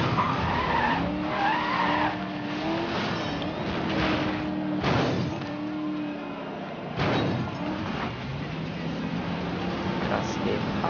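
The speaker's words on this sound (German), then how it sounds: "So, rumgedriftet. Und außen überholt." A car drifts in the racing video game Need for Speed Most Wanted 2012, with sustained tire squeals and skidding over a steady engine roar, and the squealing swells and fades as the car slides.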